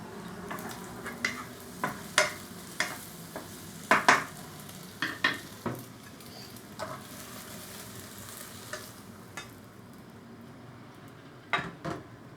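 Tomatoes sizzle steadily in a hot wok while a utensil scrapes and knocks through them in irregular strokes, close up and fairly loud.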